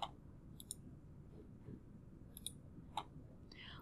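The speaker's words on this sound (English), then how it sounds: "click the red X to remove them" Several faint computer mouse clicks while working in software, sharp isolated ticks spaced irregularly against a quiet background.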